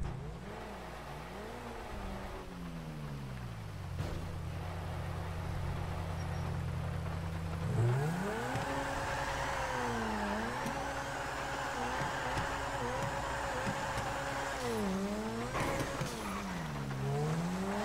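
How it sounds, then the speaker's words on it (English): A car motor runs throughout, revving up and down in repeated swoops with shifting pitch, the engine steady and moderately loud while tire squeals and other racing noise mix in. "That's the motor, baby."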